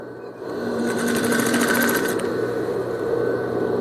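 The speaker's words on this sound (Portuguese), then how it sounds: "então, eu vou dobrar 2 vezes e vou passar a costura." A sewing machine stitches a double-folded hem on a skirt, a steady fast mechanical whir running continuously and close up, with the needle's rapid chatter clearest in the middle.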